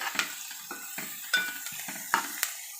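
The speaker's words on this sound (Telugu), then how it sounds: "ఇలా బాగా ఫ్రై చేసుకోవాలండి" Tomato and onion frying in a pan for fish curry, a soft sizzle broken by repeated stirring scrapes and light clinks of a utensil against the pan.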